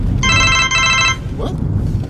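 A cell phone rings inside a moving car, a loud electronic trilling tone in two short bursts, over steady road rumble, then stops.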